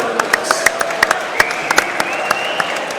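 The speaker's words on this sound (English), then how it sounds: "can we please have a big round of applause for both of our fighters" Crowd at a boxing event applauds the fighters, a noisy hall with scattered sharp claps punching through a loud crowd murmur, voices mixed in throughout.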